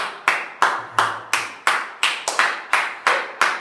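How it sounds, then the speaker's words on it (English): A small group claps in a steady rhythm of about a dozen sharp hand claps at the end of a workout session, close and fairly loud, with no talk. "Round of applause to Heather, you guys."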